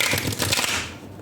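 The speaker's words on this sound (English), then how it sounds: "I'm going to do one more shuffle, one more attempt." A quick riffle of tarot cards being shuffled, a rapid papery flutter lasting about a second before trailing off.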